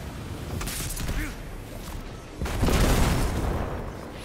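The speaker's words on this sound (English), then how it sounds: "That might have been a Sins of the Past firing" The Sins of the Past weapon in Destiny 2 fires with deep, heavy booms and a rumbling blast that swells midway, set among busy game noise.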